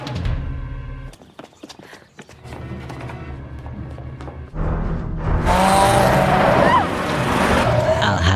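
A car chase scene from a film builds from sparse dramatic sounds and quiet moments into a loud, roaring rush of engine and motion noise that swells and holds through the final seconds.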